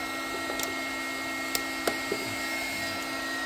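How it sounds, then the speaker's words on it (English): Two heat guns drawing close to 3000 watts from a VortiPower VP10 NACS V2L inverter powered by a Tesla EV, giving a faint, steady fan-like whir with a constant hum and a few small clicks. "Plug in a second heat gun."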